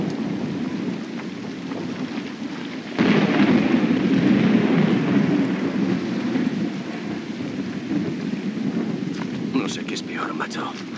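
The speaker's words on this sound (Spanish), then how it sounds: "calarme hasta los huesos con esta lluvia" Steady rain and rumbling thunder in the Call of Duty Modern Warfare 2 Remastered campaign, a continuous downpour that swells louder after a few seconds, with brief higher crackles near the end and no talk.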